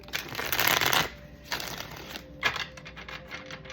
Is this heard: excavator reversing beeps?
no